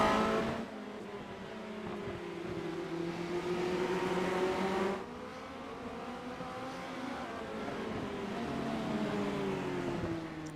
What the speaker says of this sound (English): Oh, that was a risky move there from Hatton around the outside of that purple car.